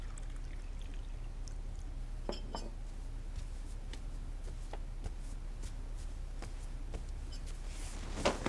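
Water poured into a glass at home during a quiet indoor visit, a faint, steady trickle with scattered small clinks and taps, low and close under a soft room hum.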